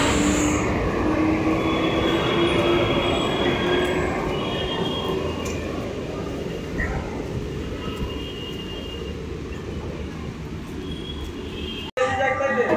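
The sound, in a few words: Virar-bound 12-car local train arriving at platform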